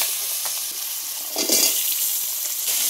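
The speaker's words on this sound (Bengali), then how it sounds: "এখন ওই তেলের ভিতরে আলু দিয়ে দেব।" Potatoes frying in hot oil in a wok with bay leaf and cumin, where fish has just been fried; a steady, close sizzling hiss swells briefly midway and continues evenly, with no voices.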